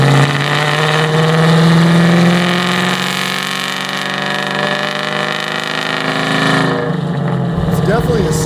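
A 1000hp Whipple-supercharged Terminator Cobra engine pulls hard under acceleration, a loud steady drone with supercharger whine heard from inside the car, then eases off toward the end as a voice speaks briefly.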